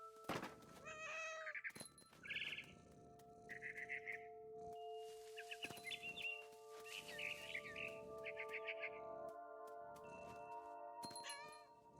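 A cat in the video game What Remains of Edith Finch gives several short meows scattered across a quiet scene, mixed with bird chirps, soft thumps and a sustained tonal music bed.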